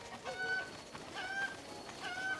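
Cucco chickens in The Legend of Zelda: Breath of the Wild give repeated short, high, faint clucks and squawks in three bursts over soft background game sound.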